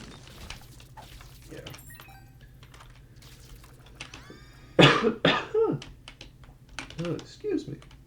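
A person coughs close to a podcast microphone, a loud burst of several rough coughs and throat clearing after quiet keyboard typing, with a faint voice nearby.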